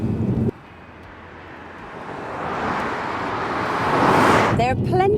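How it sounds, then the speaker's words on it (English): A 2016 Lexus GS F super saloon's V8 engine accelerating hard, a broad roar that swells steadily to a loud peak before a brief shift-like break and a renewed pull at the end. "something magical happens to this V8 engine as it clears its throat and thunders along like a proper super saloon"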